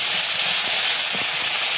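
Garlic paste sizzling in hot oil with whole garam masala, chopped onion and ginger paste for a papaya curry, a steady broad hiss with a few soft clicks, close and continuous, no talking.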